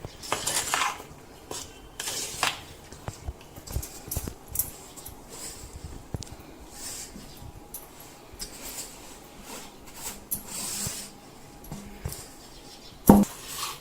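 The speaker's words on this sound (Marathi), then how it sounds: "आता हे मिश्रण मी छानपैकी एकजीव करून घेते, हलवत आहे" Gram flour roasted in ghee is stirred into hot sugar syrup in a pan for besan ladoo. A spoon scrapes and clinks quietly against the metal in steady, irregular strokes, with one sharper knock near the end and no talk.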